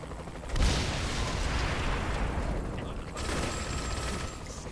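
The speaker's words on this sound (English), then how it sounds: "Something blew up." A sudden explosive blast erupts in Saints Row: The Third Remastered game audio, followed by a sustained rumbling roar of debris and noise that fades slightly, then a second burst of crackling noise.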